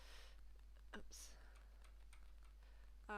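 Key presses on a Maltron one-handed keyboard, a few sparse, faint clicks spread unevenly over a quiet background, close by and with no one talking.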